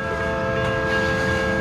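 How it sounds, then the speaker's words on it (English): A long tanker freight train rolls through a railroad crossing in Bakersfield, CA, its loud, sustained horn chord ringing steadily over the rumble of the passing cars. "Oh yeah, it's a tanker train."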